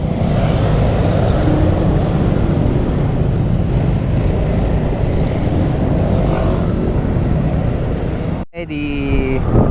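A Honda Vario motor scooter accelerates along a road, its steady engine drone and road rush loud and continuous close to the rider, with a brief dip near the end.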